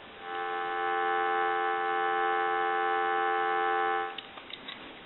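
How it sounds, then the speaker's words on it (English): A steady, loud dial tone plays on a Western Electric Princess telephone for about four seconds, then stops abruptly, followed by a few faint clicks. "Give you some dial tone."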